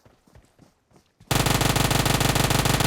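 Uzi fire in PUBG Mobile: after some quiet speech, a loud, rapid, continuous burst of automatic gunfire rattles on steadily to the end.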